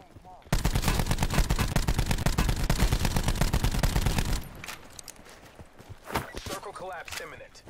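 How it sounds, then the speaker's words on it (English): Loud, dense automatic gunfire rattles continuously for about four seconds in Call of Duty: Black Ops 4's Blackout mode. Scattered closer shots and footsteps follow as the barrage stops. "Somebody's shooting at me."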